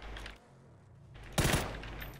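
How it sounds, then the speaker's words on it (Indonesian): Enemy gunfire in PUBG on PC: a muffled ambient rumble, then a sharp, loud rattle of several rapid shots near the end, without any speech. "Enggak ada miss-nya dia nembak."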